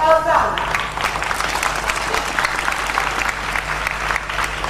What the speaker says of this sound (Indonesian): Tepuk tangan untuk 10 tahun Elsa.